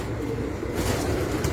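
A pigeon coos low and soft on a rooftop, the murmuring call close by, with some broadband outdoor noise rising midway.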